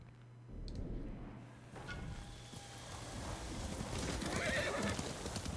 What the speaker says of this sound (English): Don't want to get attached to another video game horse.